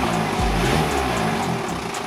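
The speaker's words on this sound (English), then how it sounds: "Here's the revving." Vauxhall Corsa engine revving close by, a brief rough mid-pitched surge of engine noise that stays fairly steady.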